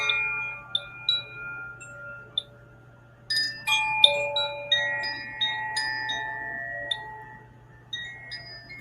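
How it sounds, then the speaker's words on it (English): Bright metallic chimes struck one after another, each ringing tone decaying slowly over a steady low hum, with clusters of overlapping strikes building into a shimmering wash midway. "I'm going to play the chimes"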